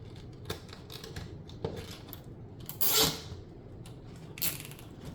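Scissors snipping off excess material on a Halloween spider web wreath, a few short, sharp cuts spread unevenly apart with soft handling rustle between them, close and fairly quiet.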